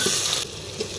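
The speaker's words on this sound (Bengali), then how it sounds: "এবার দিয়ে দেবো আমরা কুচানো পেঁয়াজ" Chopped onion dropped into a hot pan with cinnamon, cloves and cardamom for mutton-fat ghugni, a loud, dense sizzle that stays close and continuous over one second.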